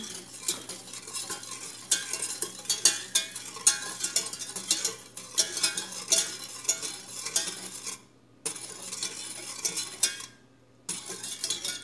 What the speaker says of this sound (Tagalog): Haluin natin sa apoy.